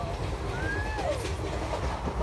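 An Indian passenger train running, with a low steady rumble and faint rattling of the carriages, a brief thin squeal rising over the drone, heard from fairly close and quiet overall.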